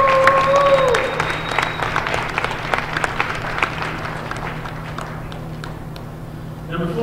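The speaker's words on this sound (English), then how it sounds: "Everyone, let's give Stephanie a round of applause." A crowd in a high school girls' basketball gym applauds for a senior player on senior night, scattered clapping that fades over several seconds after a brief whistle-like tone.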